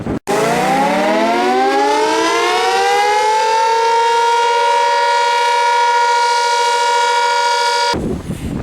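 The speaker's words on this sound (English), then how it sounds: "it's the same type of siren that was used during World War II for air raids" A loud World War II–type air raid siren in New Zealand winds up from a low growl to a sustained, steady howl, holding its pitch for several seconds before cutting off abruptly.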